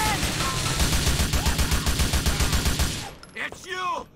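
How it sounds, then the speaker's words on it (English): Rapid automatic gunfire in Grand Theft Auto IV, a dense, loud burst of repeated shots for about three seconds, followed by shouting voices and scattered noises. "Half the time, all you need is that one bullet."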